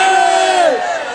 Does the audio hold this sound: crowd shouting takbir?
yes